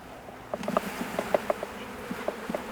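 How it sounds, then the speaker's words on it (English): Honey bees buzz steadily close by at a hive on a farm, a low droning hum with a few sharper passes of individual insects. "shake the bees off,"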